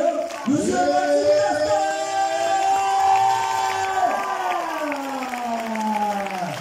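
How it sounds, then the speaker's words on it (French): Crowd cheering and clapping at a French film premiere as the director and actor are welcomed, a lively mix of whoops and applause under a loud announcer speaking over a microphone throughout. "Je vous demande d'applaudir"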